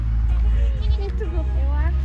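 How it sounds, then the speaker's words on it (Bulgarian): A wild goat on Crete gives a brief, wavering bleat close by. The call sits under people talking and a constant low outdoor rumble. "Ето я козичката."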